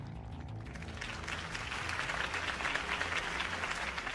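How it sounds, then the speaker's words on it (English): Crowd applause after a campaign speech in the Batman Telltale video game: a dense, steady wash of clapping that swells and holds loud throughout. "If only Mr. Wayne, my campaign's largest backer, could have heard that applause"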